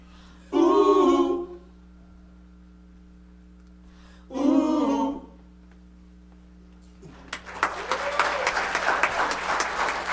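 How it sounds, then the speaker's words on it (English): A church congregation breaks into clapping on Good Friday, a burst of many hands that starts after a quiet stretch with two short phrases of voice and continues busily to the end. "I thought we weren't supposed to clap on Good Friday."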